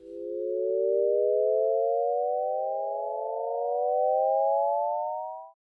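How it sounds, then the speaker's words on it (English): A Shepard tone auditory illusion built from stacked, overlapping sine-like tones that glide steadily upward, each layer fading in as another fades out, giving a smooth, continuous, endlessly rising pitch heard alone and clean. "Voila! Shepard tone."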